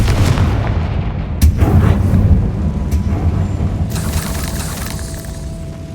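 A Confringo fire spell explodes in Hogwarts Legacy, a loud booming blast with a crackling rumble that carries on in a continuous heavy roar of game effects.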